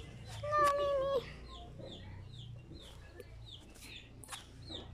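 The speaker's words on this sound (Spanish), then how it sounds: "El pollito solito, buscando a su mamá" Repeated high, thin chick peeps sound throughout, with a louder drawn-out call near the start over a soft background hum.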